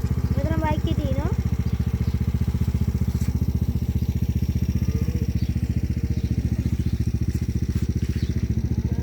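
A motorbike engine runs steadily and close on a New Zealand farm in winter, a constant low rhythmic putter lasting throughout, with a faint rising tone briefly early on.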